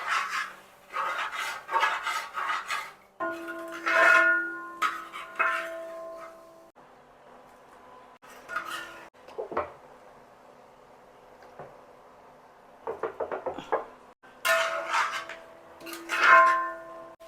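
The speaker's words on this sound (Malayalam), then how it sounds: "ഇത് കുറച്ച് നേരം കൂടെ നമുക്ക് ഇതിങ്ങനെ ഇളക്കി കൊടുക്കാം." Beef liver fry being stirred in a pan, with intermittent metallic scraping and rasping of a spoon against the cookware coming in bursts, moderately close, with no talking.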